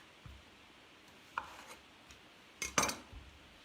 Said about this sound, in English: So I am using my knife. I'm just going to cut them in half.